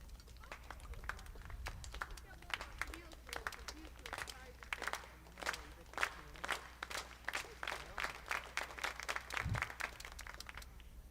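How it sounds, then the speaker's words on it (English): An audience at a livestreamed event practices a slow clap: sharp, separate handclaps ring out in a regular rhythm, quite faint and roomy, with a low background hum. "Let's practice a slow clap now."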